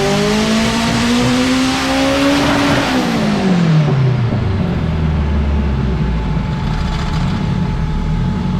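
A 900-horsepower Honda Civic engine revs hard on a dyno, a loud, close, sustained howl that climbs, then drops away as the revs fall, with a rough, raspy exhaust note.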